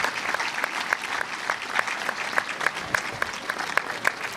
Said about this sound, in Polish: Brawa dla wszystkich rodziców i pomagających tej uroczystości.